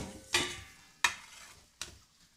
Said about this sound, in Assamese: লাহে লাহে ধিমি ধিমি আঁচত ভাজি ল'ব।